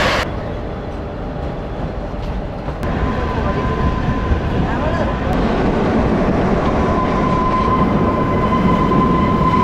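The Shivalik Deluxe Express toy train departs Kalka for Shimla: a loud, steady rumble of rolling carriages that builds slightly, with a faint squealing tone from the wheels running over it.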